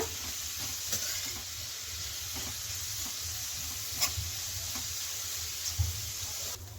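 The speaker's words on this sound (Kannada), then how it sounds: "ಒಂದು 1 ನಿಮಿಷಗಳ ಕಾಲ ಇದರಲ್ಲಿ ಹುರ್ಕೊಳ್ಳೋಣ, ತುಪ್ಪದಲ್ಲಿ ಹುರ್ಕೊಳ್ಳೋಣ" Sabudana (sago) roasts in ghee in a pan for carrot sabudana kheer, a soft continuous sizzle broken by occasional scraping stir clicks, close and quiet, with no speech.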